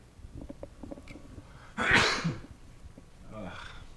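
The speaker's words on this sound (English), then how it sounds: "Sneeze." A single loud, sharp sneeze bursts out in the middle, preceded by quiet shuffling and followed by a short breathy sound.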